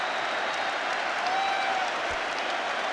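A stadium crowd at a Rugby World Cup semi-final between New Zealand and France applauds after a try, a dense, steady roar of clapping and cheering heard at a distance.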